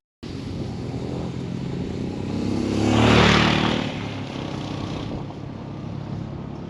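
Royal Enfield Himalayan 411 motorcycle rides along a trail with a steady engine drone and wind rush that swells to a louder pass near the middle, then settles again, with no talking.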